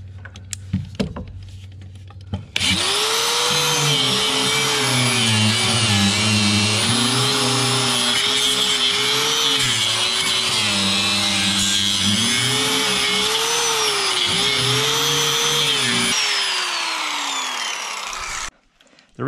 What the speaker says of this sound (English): I think I can get my grinder to work. I want to take down this piece of siding.